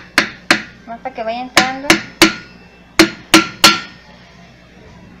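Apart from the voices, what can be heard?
light hammer taps on a board fitting orange juicer part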